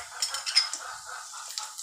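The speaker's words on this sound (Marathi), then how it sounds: "आता आपण त्याच्यामध्ये काजू फ्राय करणार आहे" Cashews frying in hot oil in a pan, a soft steady sizzle with light clinks and scrapes of a utensil, close and fairly quiet with no talking.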